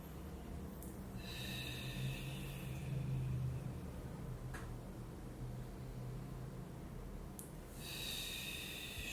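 A slow, soft, breathy exhale from someone rolling the spine down during a floor exercise, close to the microphone and faint over a low steady hum, with a few quiet breath sounds around it.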